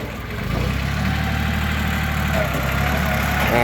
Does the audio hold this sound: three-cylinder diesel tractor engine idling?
yes